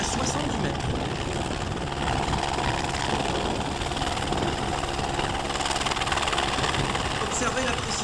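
An Écureuil helicopter hovers for a winch rescue demonstration at an air show, producing a loud, steady rotor and turbine roar throughout while a French commentator talks over it on the public address.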